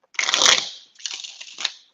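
Tarot cards shuffled by hand at close range, heard as two bursts of dry papery rustling and riffling, the first longer and louder, with a short gap between.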